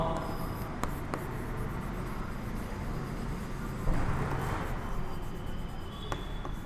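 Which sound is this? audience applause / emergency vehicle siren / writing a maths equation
writing a maths equation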